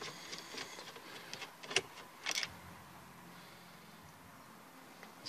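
Close, intermittent ratcheting clicks and small metallic rattles from a tool undoing 10mm screws that hold a Toyota Yaris radio, in short bursts separated by quieter pauses, ending on a sharp click.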